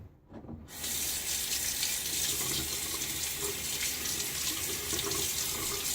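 A water tap runs steadily and close after a brief start, rinsing two Gillette safety razors in a sink, a constant hiss and splash with no talking.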